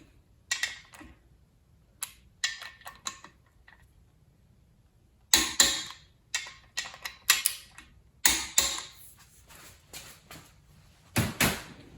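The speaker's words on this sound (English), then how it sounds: "I torque these to 55 pound-feet." Bolts on a 445 Ford FE street/strip engine being torqued to spec produce a series of sharp, close mechanical clicks and ratcheting bursts in irregular clusters, separated by short silences.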